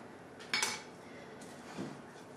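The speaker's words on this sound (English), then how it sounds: "This spatula works out perfect for the bowl." A spatula scrapes around a mixing bowl of cheesecake-ball mixture with pecans, giving a brief clinking scrape followed by a softer knock, close and fairly quiet against a low room hiss.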